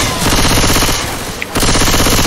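Rapid automatic gunfire from the Left 4 Dead 2 zombie shooter game rattles continuously, dipping briefly in the middle before resuming at full intensity.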